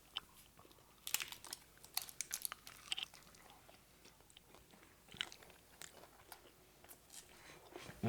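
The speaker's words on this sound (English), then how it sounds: "I'm gonna try not to take as big a bite as I normally do" Chili lime shrimp cup bitten into, sharp crisp crunches followed by softer chewing, close and fairly quiet with no talk.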